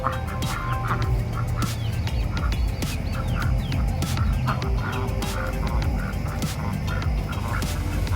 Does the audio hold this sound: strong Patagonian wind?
no